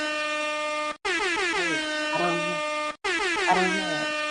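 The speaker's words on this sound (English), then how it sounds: "Oh, we might have air horns today." Loud blasts of an air horn, three long harmonic honks separated by brief gaps, with pitch wavering and sliding in the middle of each blast.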